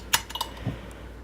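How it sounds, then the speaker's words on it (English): A few quick clinks of a utensil against a bowl while oil, white wine vinegar and salt are mixed, brief light taps followed by a faint low knock, close and quiet. "I'll put the oil, I'll put the vinegar, I'll put the salt, and then I'll mix it up"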